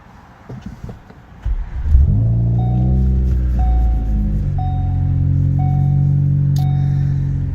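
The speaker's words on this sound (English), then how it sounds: "Now it's time to start it up with the keyless ignition" A 2015 Ford Focus ST fires up by keyless push-button start: a short crank, a loud flare of revs, then a steady close idle hum with faint repeating chimes.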